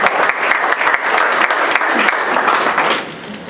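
A Veterans Day crowd gives a loud, dense round of applause for an Air Force captain and flight physician, sharp individual claps crackling throughout before the clapping thins and softens toward the end.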